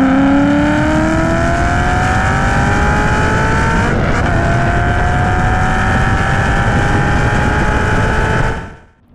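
A stock 2014 Mustang GT with a 5.0 V8 and 6-speed manual races a 4.6 Mustang, its loud, continuous engine roar climbing steadily in pitch with one brief shift midway before cutting away at the end.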